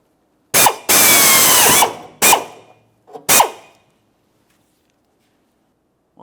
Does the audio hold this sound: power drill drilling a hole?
yes